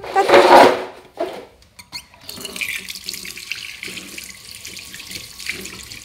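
A tap gushes loudly into a sink for a moment, then water keeps trickling and splashing more softly as clay is washed off a child's hands.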